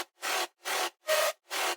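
A wet reverb layer with autopan in an electronic crunch-style production comes as five evenly spaced bursts of hissy, washed-out sound, each swelling and cutting off, faint and with no voice.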